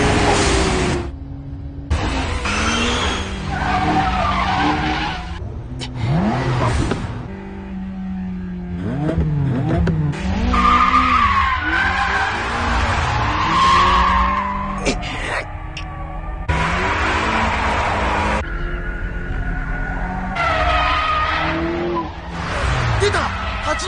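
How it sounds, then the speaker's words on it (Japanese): A Toyota AE86 brake-drifts through a mountain pass hairpin in a race against a Nissan GT-R R32, tires squealing and skidding loudly as engines rev and roar, with voices talking over the action and music underneath. "出た86のブレーキングドリフト。"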